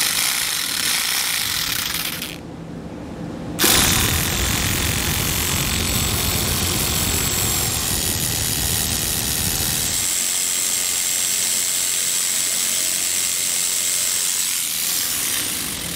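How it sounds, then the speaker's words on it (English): Rotary tool cutting thin plastic bumper fascia on a 2020 Mini Cooper for a hidden trailer hitch, giving a loud continuous whine with a rough buzzing grind, a short drop near the start and a lighter stretch toward the end, without speech. "Pretty thin plastic, probably use a rotary tool or utility knife, whatever you have laying around."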